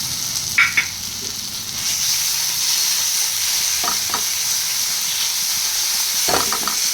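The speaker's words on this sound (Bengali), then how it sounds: "এটাকে আমি ভালো করে কষিয়ে নেব" Fried onions are sautéed with almond and nut paste in a pan, producing a loud, steady hiss and sizzle punctuated by a few sharp stirring clatters, heard up close with nobody talking.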